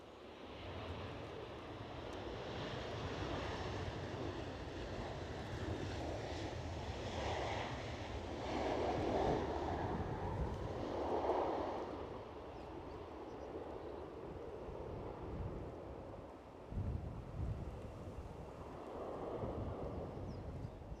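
Strong gusty wind blows across Edinburgh Airport, a broad rumbling roar that swells and eases over about twenty seconds, with louder buffeting gusts partway through.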